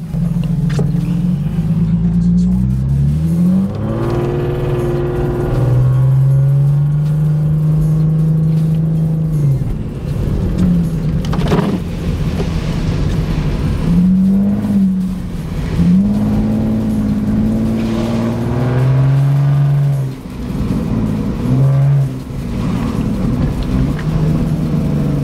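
A Lexus IS300 sedan revs and pulls away through its gears, the engine note rising and falling across several shifts, loud and close throughout without speech.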